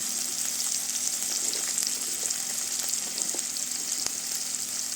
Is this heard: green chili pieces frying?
yes